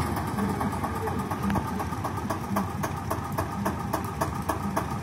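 An Eicher 241 tractor fitted with a front loader idles and runs close by, a steady mid-low engine chug with regular clatter pulses and faint background voices.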